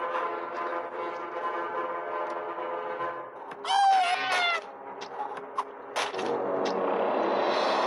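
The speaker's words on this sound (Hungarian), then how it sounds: "Ó, cica!" A cat meows a few times in the Friday the 13th Killer Puzzle video game, short rising calls over steady game music and ambience, followed by a brief sharp click.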